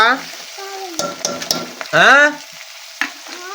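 Curry sizzling as it fries and gets stirred in a pan, with scraping stirs and a voice speaking over the cooking.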